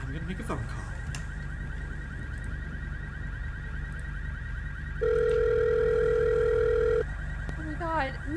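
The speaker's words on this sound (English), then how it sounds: "Okay, I'm gonna make a phone call." During a phone call in a video game, a steady electronic tone sounds for about two seconds, loud and clean over a continuous low hum and faint background noise.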